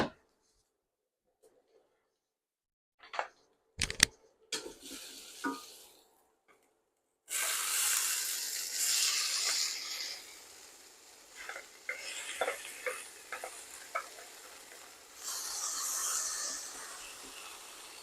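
Garlic and damp cucumber frying in a pan for Korean side dishes: a few quiet clicks and knocks, then a loud, steady sizzle bursts in partway through, with crackling pops over it and no voices.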